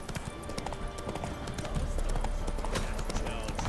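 A horse's hooves clip-clop steadily in The Witcher 3: Wild Hunt video game, a close, continuous trotting rhythm that grows slightly louder partway through.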